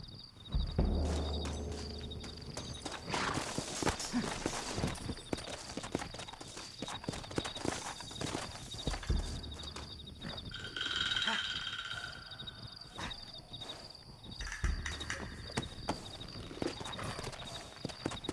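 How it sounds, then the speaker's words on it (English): Horses in the video game Red Dead Redemption, rhythmic hoofbeat clip-clop of several mounts galloping steadily throughout, with occasional heavier thuds and game ambience, no clear talk over it. "Looks like Carlos left us some horses"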